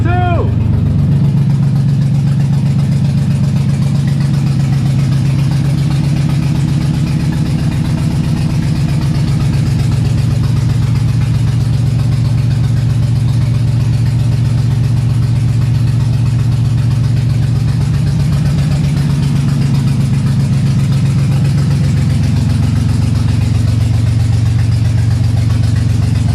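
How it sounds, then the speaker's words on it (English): Nissan VQ engine swapped into an S13 starts and settles into a steady, loud idle that drones on throughout, with slight shifts in pitch as it runs. "I'm gonna go ahead and start the car right now"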